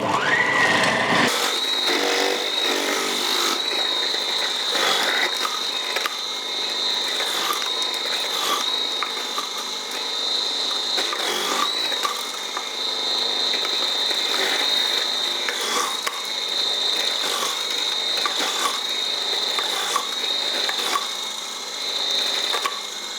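A KitchenAid stand mixer with a grating attachment shreds food for homemade lunches, giving a steady mechanical whir with continuous rattling, clicking grinding throughout. It is close and evenly loud.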